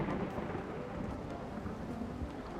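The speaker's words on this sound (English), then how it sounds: "Ah, thunderstorm." Thunderstorm weather in the video game RimWorld: a steady wash of rain with a low rumble of thunder underneath, soft and continuous throughout, with no voices.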